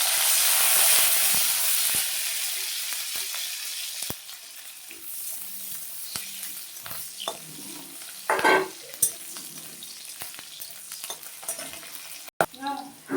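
Garlic cloves and green chilies fry in mustard oil with a steady bright sizzle and hiss, loud at first and then settling, broken by occasional stirring scrapes and a few louder spattering bursts near the end.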